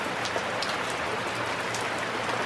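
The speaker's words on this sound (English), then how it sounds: "At some point, postponing no longer makes sense, and I hit the road, rain and all." Steady rain falling in the Humboldt Redwoods, a dense continuous hiss of drops on surfaces that stays even and close throughout, with no voices.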